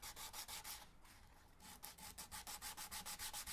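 Wooden X-braces inside a guitar are sanded by hand in quick, regular back-and-forth strokes: a dry rasping rhythm that pauses briefly near the start, then resumes faster and evenly, close up and fairly quiet.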